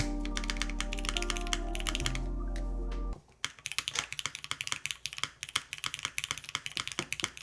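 Rapid, crisp clacking of Cream Soda switches on a 60% mechanical keyboard being typed on, close up, with no voices; a steady hum in the first few seconds fades away.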